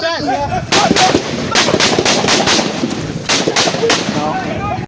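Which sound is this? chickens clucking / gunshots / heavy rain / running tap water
gunshots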